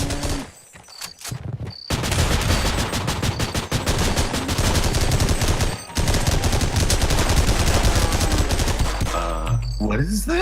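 A grease gun in the They Hunger video game fires sustained loud automatic bursts close up, nearly continuous for several seconds with a brief break, then mechanical sounds at the end.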